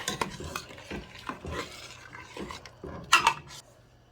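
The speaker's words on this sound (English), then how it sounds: "Stir them in." A spoon stirs handfuls of noodles into a pot of beef stew, giving soft, repeated wet scrapes and knocks against the pot and one brighter metallic clink near the end, all close and fairly quiet.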